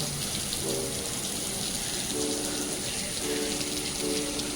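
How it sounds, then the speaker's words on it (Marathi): A small waterfall near a hillside ashram in Khopoli, a continuous rushing water sound heard steadily throughout, with faint tonal sounds in the background. "तुम्ही छोटासा धबधबे चालू होते इकडे तुम्ही पाहू शकताय"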